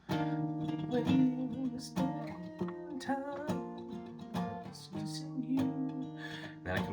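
An acoustic-style guitar plays a riff alone and up close, a sequence of rhythmic plucked chords and short strummed hits with steady pulses and brief gaps, and no talking.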